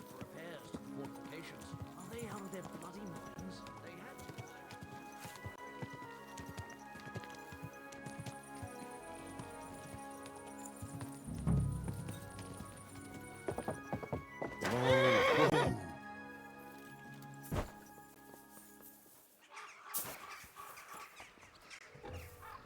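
Horse hooves clip-clopping and a horse neighing in the video game Kingdom Come: Deliverance II, with quiet game music and voices talking; a loud whinny stands out partway through.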